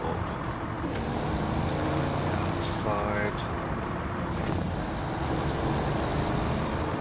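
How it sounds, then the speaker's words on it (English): A truck engine in the SnowRunner video game holds a steady, dense rumble throughout, with a brief tonal chirp partway through and a voice speaking over it. "I like the sound of the engine on this, it's really cool."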